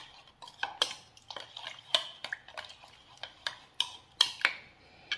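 A spoon stirs a drink of buttermilk, salted gooseberry brine and lime juice in a vessel, making irregular bright clinks and taps against the sides, close and otherwise quiet.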